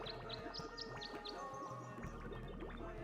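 Synthesized birdsong from the puzzle game Tangle Tower: a run of bright, rising chirps repeating quickly over steady game music, moderately loud and with no voices.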